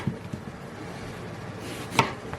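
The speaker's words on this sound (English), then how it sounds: "I cut the end off." A knife cuts the end off a firm eggplant, giving a faint soft chop at the start and a sharper single cut near the end against a quiet kitchen background.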